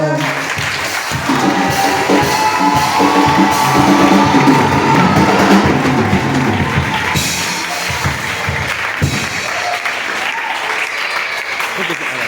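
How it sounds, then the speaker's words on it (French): Loud, sustained applause from a large church congregation, thick clapping that swells and then settles, with voices mixed in. "Est-ce que nous pouvons faire un tonnerre d'applaudissements pour le Seigneur?"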